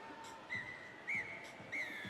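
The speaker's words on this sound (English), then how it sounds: "And the final whistle has been blown." Referee's final whistle at a schools rugby knockout semi-final: three short, faint blasts spaced evenly over about two seconds against a low crowd murmur.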